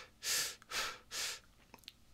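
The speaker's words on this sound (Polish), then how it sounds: "Więc biorę oddech. Przeponowy" Deep diaphragmatic breaths during a singing lesson, three loud, close, airy inhalations in a steady rhythm, each roughly a third of a second long, followed by faint small clicks.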